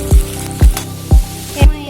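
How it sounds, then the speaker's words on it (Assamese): Onions frying in oil in a pan sizzle loudly and steadily, broken by four evenly spaced thumping strokes, about one every half second, as they are stirred. "এইফালে মই এতিয়া পিঁয়াজখিনি ৰঙচুৱা হোৱালৈকে ফ্ৰাই কৰি ল'ম।"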